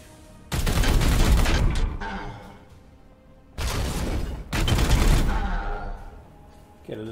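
Bursts of support-fire gunshots in the Warhammer 40k Chaos Gate – Daemonhunters video game: two loud, dense volleys of rapid gunfire with booming impacts, each trailing off, separated by a brief lull.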